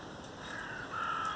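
A crow caws outdoors near allotments, faint and distant against a quiet open-air background, one drawn-out call rising slightly toward the end. No speech.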